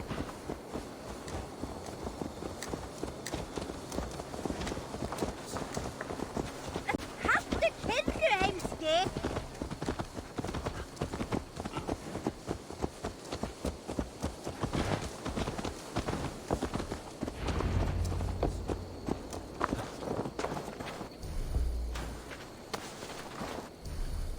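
Horse hooves in the video game Assassin's Creed Valhalla clip-clop in a rapid, steady rhythm throughout, close by, with voices talking over them.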